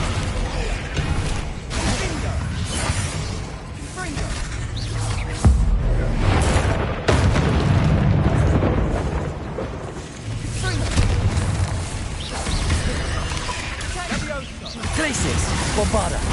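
Bombarda explosion spells cast during Hogwarts Legacy combat: dense, loud booms and whooshing blasts roll one after another in a continuous barrage, while a voice shouts spell names over the din.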